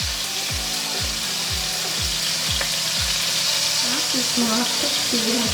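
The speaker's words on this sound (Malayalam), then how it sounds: "ഈ ചെറിയ ചെറിയ പീസസായി കട്ട് ചെയ്ത കാരണം പെട്ടെന്ന് തന്നെ അത് ഫ്രൈ ആയി കിട്ടും." Small chicken pieces for butter chicken fry in a pan with a loud, constant sizzle, punctuated by repeated low knocks from stirring or handling, while a voice talks over it.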